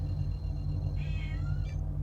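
A single cat meows once near the microphone, a brief rising and falling call lasting under a second over a steady low hum.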